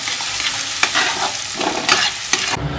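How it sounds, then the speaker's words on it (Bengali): Chopped onions fry in a hot pan while being stirred, a steady close sizzle under repeated scraping strokes of the spoon, with no talking. "হালকা ব্রাউনি করে পেঁয়াজটাকে ভাজতে হবে"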